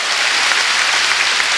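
A church congregation claps together during a Sunday worship service, a dense, steady wash of applause filling the whole moment with no voices standing out.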